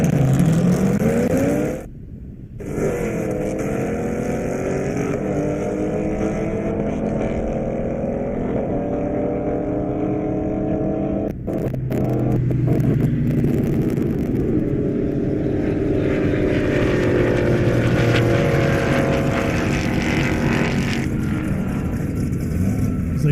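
Drag racing cars at an airport strip running at over 240 mph, a loud continuous engine roar with rising and falling tones as cars pass, sustained throughout with brief dips and no talk.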